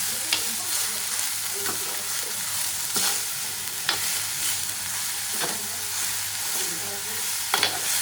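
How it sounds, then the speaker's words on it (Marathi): Red amaranth greens stir-fried without coconut in a pan with sautéed onion, giving a continuous close sizzle broken by the scrape and clatter of a spatula stirring at irregular moments. "आता लाल भाजी टाकतं करू बिना खोबऱ्याची करता"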